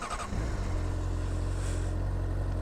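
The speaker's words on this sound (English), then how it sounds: "it just revs and revs. It's very different sounding to mine." A Honda CBR600RR sport bike's engine settles into a strong, steady high-revving drone after a short start, loud and close with no talk over it.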